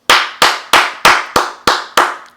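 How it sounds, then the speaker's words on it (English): Sharp hand claps, seven of them in an even, deliberate rhythm, each loud and close with a quick decay and no other sound between. "I am going to give a hand clap for that one right there"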